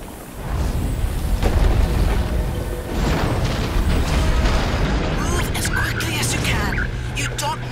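A self-destructing base in the Incredibles level of the video game Rush: A Disney Pixar Adventure explodes in heavy, sustained booming rumbles. Voices are heard over the blasts toward the end.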